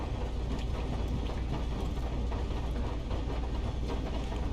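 Four coupled train cars in the game Rust roll in reverse, giving a steady, heavy rumble that stays loud and even throughout with no other sound on top.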